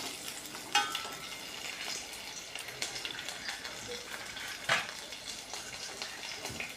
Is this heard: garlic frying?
yes